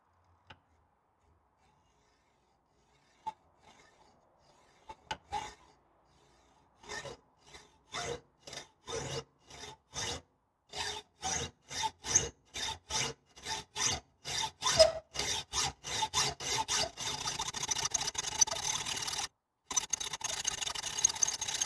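A hacksaw blade cuts through a leaf spring bush on a Land Rover Series 2 under restoration: a few tentative scrapes, then steady rhythmic rasping strokes that quicken and grow louder, close by, with a brief pause near the end.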